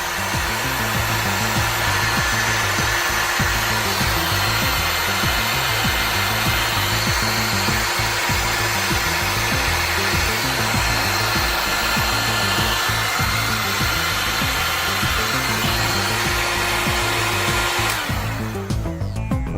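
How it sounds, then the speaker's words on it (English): A heat gun blows loudly and steadily while melting heat shrink tubing and solder, a continuous rushing roar that holds for most of the stretch before cutting off near the end. "go ahead and melt our heat shrink"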